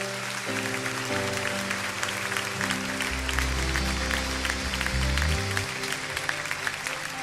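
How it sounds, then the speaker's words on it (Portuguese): A church congregation applauds during a worship service, a broad wash of clapping sustained under steady organ or keyboard chords and low bass notes, filling the room throughout. "Você pode aplaudir ao Senhor."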